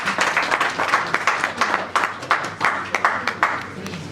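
Audience at a press conference breaks into applause, a steady wash of many hands clapping together, fairly close and sustained with no talk over it.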